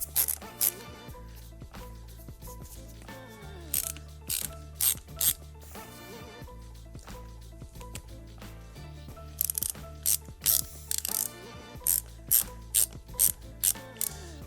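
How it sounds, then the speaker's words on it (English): Ratchet wrench tightening the bolts on an 8th-generation Honda Civic shift boot, with rapid clicking pawl strokes coming in quick repeated bursts, close and clear, and no talking. "So we're going to get one of these bolts started, not tightened all the way, just enough to keep it in and guide it"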